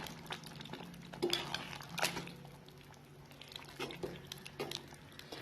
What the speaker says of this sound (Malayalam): നമുക്കിത് നന്നായിട്ടൊന്ന് മിക്സ് ചെയ്തെടുക്കാം ഈ മസാലയെ കൂടെ